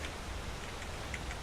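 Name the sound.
heavy rain in the video game Enderal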